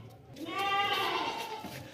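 A native long-eared goat gives a single drawn-out bleat, wavering and fairly close, rising in the middle and trailing off over about a second.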